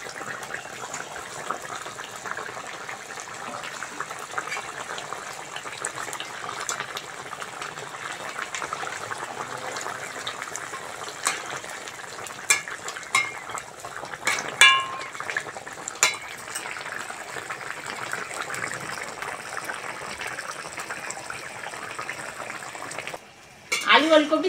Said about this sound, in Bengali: ঝোল ভালোভাবে ফুটে গেছে, মাছগুলো দিয়ে দেবো